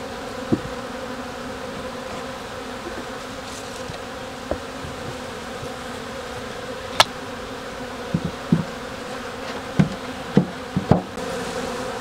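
Honeybees hum steadily around opened beehives, a dense continuous buzz with a few sharp knocks and taps scattered through it and no voices.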